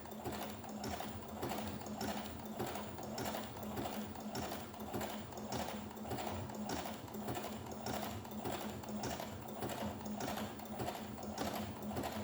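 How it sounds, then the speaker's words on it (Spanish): Sewing machine stitching a zigzag with twin needles, a steady rhythmic mechanical whir and clatter running continuously at an even pace, close and alone. "vamos a ver cómo queda un zigzag con las agujas gemelas"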